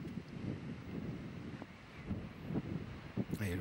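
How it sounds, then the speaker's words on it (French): Strong gusting wind buffets the microphone on an elevated green at a professional golf tournament, a low rumbling roar rising and falling throughout, with a brief faint voice at the end. "Et le vent est très très puissant sur ce green surélevé"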